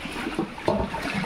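Water sloshes and gushes as a cattle feed trough is rinsed out on a dairy farm. A short, close burst of splashing and trickling with uneven surges.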